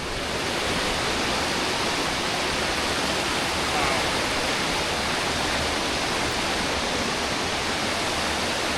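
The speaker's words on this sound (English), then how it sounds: "You don't just hear the waterfall, you feel it. The ground hums with it." Wailing Widow Falls, a waterfall on the NC500 route near Kylesku, roars from the bottom of the falls as a loud, dense, unbroken rush of water that holds steady throughout, with no talk.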